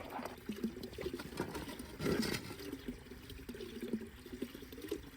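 Water spilling from a livestock waterer on a ranch in about -30 degree cold, dropping out like a small waterfall with a steady, close splashing pour and a louder surge partway through.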